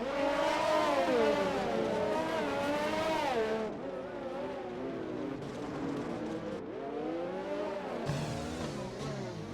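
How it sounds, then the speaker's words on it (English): Rough, harsh-sounding Honda race car engine in a racing video game at Monaco, a loud sustained buzzing drone with shifting revs and pitch sweeps that dips slightly partway through. "that sounds like this Honda engine's got a bag of nails in it"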